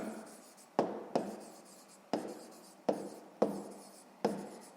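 Pen or pencil writing by hand on paper while working a sixth-grade maths exercise, a close series of about six scratchy strokes, each starting sharply and fading, with brief pauses between them.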